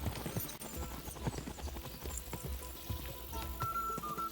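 Horse hooves pound at a gallop in the medieval game Kingdom Come Deliverance 2, a fast, uneven clip-clop close up and fairly quiet, with a faint high tone entering near the end.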